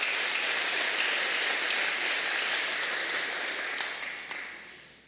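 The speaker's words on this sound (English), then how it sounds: "you all deserve a big round of applause" Steady applause from a crowd at a mayor's State of the City address, dense and continuous, gradually thinning and fading toward the end.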